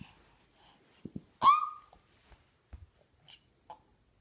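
A young girl imitates a dog's bark with a single short yip, close and fairly quiet, surrounded by soft breathing and small handling noises in a calm room.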